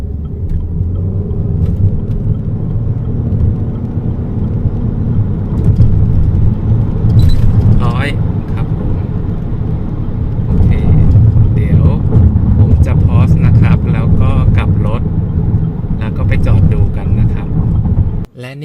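A Haval H6 HEV hybrid car accelerates hard from 0 to 100 km/h, its engine and road noise a loud sustained rumble heard from inside the cabin, with people talking over it and a brief drop at the end.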